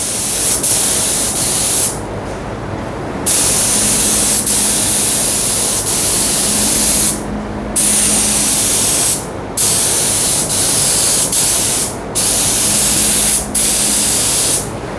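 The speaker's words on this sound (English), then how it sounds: "So we're going to be spraying air, and then we spray the product" Sata spray gun spraying finish onto a wooden face frame, a loud steady hiss of air and atomized finish in several long bursts separated by short pauses.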